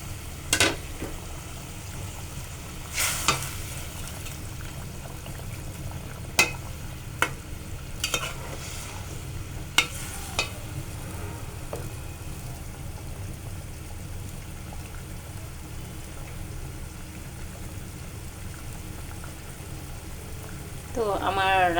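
Pointed gourd and green chillies fry in a pan with a soft, steady sizzle, broken by occasional clinks and stirring scrapes, fairly quiet and close, with no talking.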